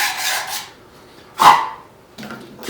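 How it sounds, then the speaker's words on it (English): Rough, short scraping strokes of 40 grit sandpaper roughing up a fiberglass part, a few separate rasping passes with brief pauses between them, close and fairly quiet. "So I just got some 40 grit paper here, and I just rough it up."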